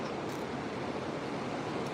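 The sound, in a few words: ocean waves washing up on the beach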